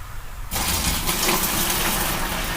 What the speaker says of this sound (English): Going to very carefully pour it into the bucket.